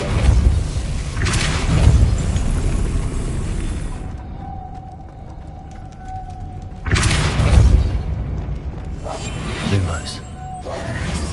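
A Depulso spell cast in a Hogwarts video game, two loud whooshing bursts with booming low rumble several seconds apart, separated by quieter game ambience and a faint tone.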